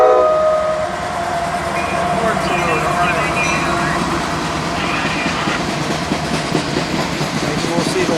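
A freight train rolls past under a high wind warning, slowed to a crawl, giving a continuous close rumble and rattle of wagons that holds steady throughout, while someone talks over it.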